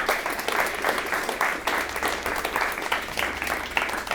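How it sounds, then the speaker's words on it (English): A conference audience breaks into steady applause, a continuous patter of many hands clapping at moderate volume for several seconds with no speech over it. "let's give a huge round of applause to Wade."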